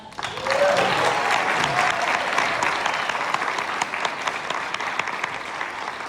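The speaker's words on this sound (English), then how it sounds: "Let's give Jayme Downey one more round of applause." Audience applause after a keynote speech at the RESET event in Charleston, South Carolina: a dense, steady roar of many clapping hands that fills the whole stretch at full strength and tapers only slightly.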